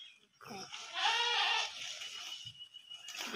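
Goats bleating on a small farm where they are fed jackfruit leaves, with several loud wavering bleats in close succession and a brief quieter bleat near the end.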